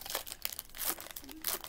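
Foil wrapper of an Upper Deck trading card pack crinkling and tearing as it is opened, a short close burst of rustling and ripping crackles.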